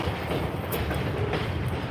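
A train rumbles past steadily near a creek, a continuous low roar with faint rattling and clicks, fairly distant and without any voices.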